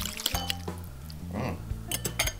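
Wet, sticky squelching and light clinks against a bowl as ramen noodles with sriracha are stirred and mixed, in short uneven bursts at close range.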